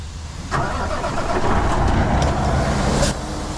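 A semi truck's large engine cranks and catches, then settles into a loud, rumbling idle that runs steadily to the end.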